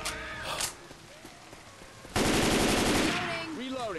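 Automatic machine gun fire in the video game Left 4 Dead, a dense sustained burst close and loud, starting mid-clip over a busy background of game sounds and faint chatter.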